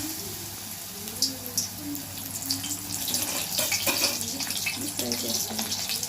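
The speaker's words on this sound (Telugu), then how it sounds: "గోల్డెన్ బ్రౌన్ వచ్చేంత వరకు తిప్పుతూ ఇలా ఫ్రై చేసుకోవాలి." Small balls of jowar (sorghum) flour dough frying in hot oil, a steady crackling sizzle with scattered pops running throughout, fairly close and continuous, with no speech over it.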